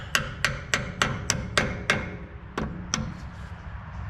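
A big hammer strikes stuck bud nuts on an International 4700 truck, landing about nine sharp metallic blows in a steady rhythm that slows and fades toward the end.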